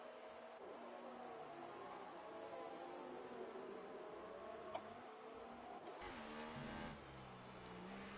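High-revving F1 race car engines in the F1 2018 game at the German Grand Prix, a continuous whining roar with shifting pitch as cars accelerate, moderately loud with no voices over it.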